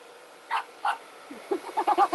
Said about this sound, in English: Right, we're going with a hairdryer because I don't have another heat tool.